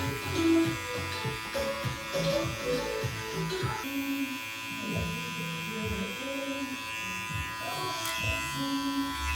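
Electric hair clippers set on an open 0.75 guard buzz steadily up close while blending a short fade on a man's hair, the motor hum rising and dipping as the blade passes through the hair.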